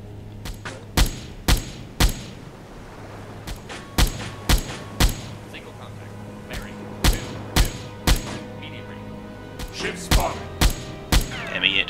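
A submarine's aft anti-aircraft gun in Silent Hunter IV fires sharp single shots at irregular intervals, each a loud crack over a low engine drone, roughly fifteen rounds in all.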